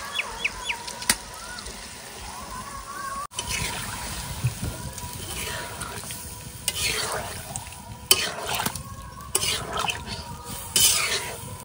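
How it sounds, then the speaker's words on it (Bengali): Spiced water poured into sautéed masala in a cooking pot, sizzle and bubbling rising with clinks and scrapes of a utensil against the pot, stirring sounds irregular and close. "কষানো হয়ে গেছে, এবার মশলার জলটা দিয়ে দিচ্ছি।"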